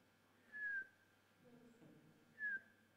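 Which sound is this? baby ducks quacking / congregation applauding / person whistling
person whistling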